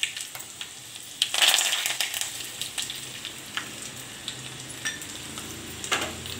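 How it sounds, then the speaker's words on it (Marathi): Garlic, asafoetida and curry leaves crackle as they fry in hot oil in a pan for a ghevada dal amti tempering. A steady close sizzle carries sharp pops throughout, with a louder burst of spattering early on. "लसूण चांगला गुलाबी झाला की मग हिंग टाकायचं, थोडासा कढीपत्ता,"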